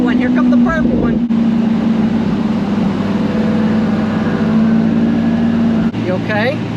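A purple car passes close by in a loud, steady engine-and-road roar, with brief voices at the start and end of the pass.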